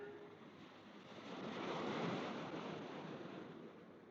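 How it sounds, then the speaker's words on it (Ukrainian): Black Sea waves breaking and washing onto the shore, a steady broad surf roar that swells in the middle and eases off, with some wind, no voices. "Чорне море."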